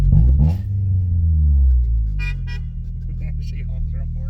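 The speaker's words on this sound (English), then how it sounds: "She honks her horn." A car horn sounds at the start, a short blast over a low idling engine rumble, followed by someone talking inside the car.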